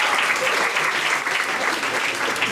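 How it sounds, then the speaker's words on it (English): Loud, steady applause from a comedy club audience fills the room, a dense wash of clapping close by that holds evenly throughout. "Round of applause for this guy."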